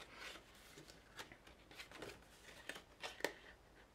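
Scissors snip and trim the last bits of paper card for a handmade Christmas card: a few quiet, close cuts and light paper rustles in a near-silent room.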